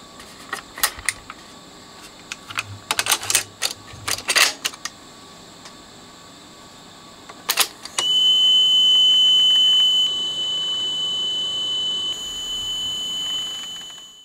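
1979 Technics RS-M17 tape deck playing a test tape: a run of sharp mechanical clicks and clunks from the transport, then a loud, steady tone that shifts once partway through, close and with no voices.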